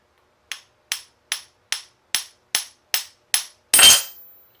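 Eight evenly spaced sharp metallic taps from a small hammer on a metal stack, close by, followed by a louder ringing strike that fades out.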